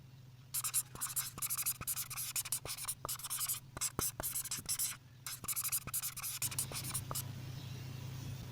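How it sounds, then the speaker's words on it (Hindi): Pen writing on paper during a math lesson, a steady run of close scratchy strokes and taps with short pauses, quiet, over a low background hum. "तो चलें फिर इसको यहाँ पर लिख लेते हैं।"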